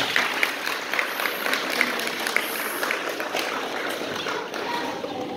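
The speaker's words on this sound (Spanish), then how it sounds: "Yo necesito un aplauso para Henry" An audience claps for a small boy at a graduation ceremony at a Bible school kindergarten in Puerto Plata, Dominican Republic, producing moderate, continuous, somewhat distant applause with a few sharper claps standing out.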